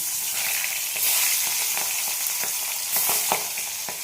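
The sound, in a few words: tengra fish frying in hot oil in a wok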